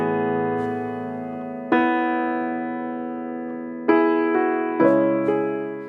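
Piano chords softened by medium-attack compression at a 2.5 ratio with a high threshold and 0.3-second release. A handful of struck chords ring out and sustain evenly, with fresh attacks arriving every second or so, close and alone.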